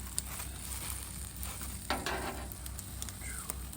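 Turkey bacon and onions sizzle on a 36-inch Blackstone griddle in a soft, steady crackling hiss, with a few faint scrapes and clicks and no talking.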